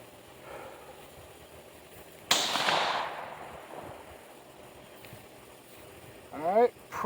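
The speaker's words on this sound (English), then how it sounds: "let's go ahead and fire the first few shots" Rifle fired at a target through a CVLife Eagle Blaze scope, a single sharp loud report followed by a decaying echo amid quiet outdoor background, with a voice speaking faintly nearby.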